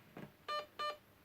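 Two short electronic beeps from the programming of a Lonex LT595 airsoft gun, evenly spaced, following a softer click, quiet and close.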